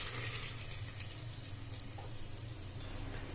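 Whole cashews, cardamom, cinnamon, cloves and bay leaf frying in hot oil for a vegetable pulao, giving a steady, soft sizzle with no talk over it.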